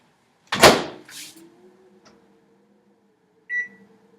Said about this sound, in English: We're going to put it in the microwave for 5 minutes.